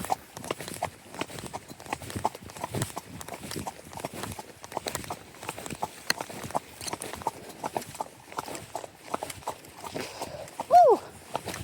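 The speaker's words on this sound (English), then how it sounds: "enjoy the ASMR horse hooves for a few minutes" Horse hooves clip-clop in a steady walking rhythm during a ride with Kate and Sam, close and clear, with brief talk over the beat and a short whistle near the end.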